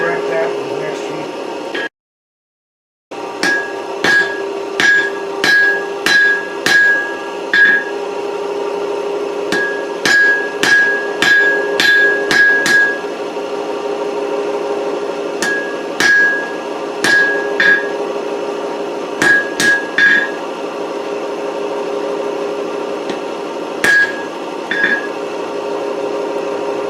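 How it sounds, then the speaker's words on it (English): Blacksmith's large 3 to 3¼ pound rounding hammer striking hot steel while forging a round punch, sharp ringing blows in quick runs with short pauses, close and loud. "Rather large 3-pound, maybe 3¼ pound rounding hammer. It gives me a lot of force to come down when I'm doing my hammer blows."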